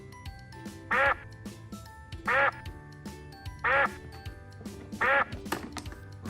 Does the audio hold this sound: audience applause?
no